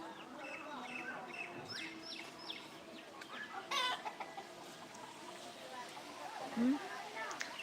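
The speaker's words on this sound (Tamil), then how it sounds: "கோழி" Chickens cluck on and off at moderate distance, with a louder squawk near the end, while people talk over them throughout.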